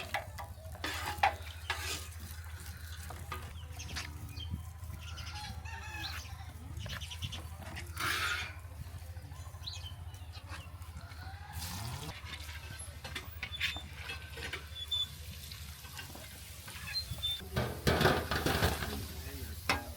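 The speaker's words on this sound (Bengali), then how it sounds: "আমরা এখন এটাকে আমরা যে গরম তেলের ভিতরে আমরা দিয়ে এটা ভেজে নিব" Banana balls frying in hot oil in a home kitchen, a continuous crackling sizzle with scattered stirring and clinking sounds, with brief louder bursts near the end and no clear talking.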